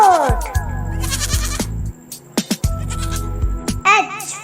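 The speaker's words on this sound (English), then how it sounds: "G for goat" A goat bleats in a wavering, nasal cry, then bleats again after a short pause, loud and close, with a brief higher call at the end.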